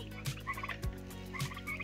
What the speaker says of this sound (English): And here's my turkeys. Look at how big they are.